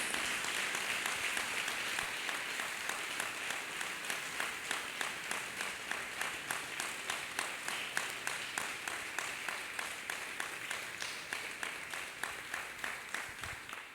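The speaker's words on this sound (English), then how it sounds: "Let us clap hands for Master Jesus." Church congregation clapping hands together in a rhythmic, evenly paced beat, with the claps landing regularly and holding steady for a long run, loud and close without talk over them.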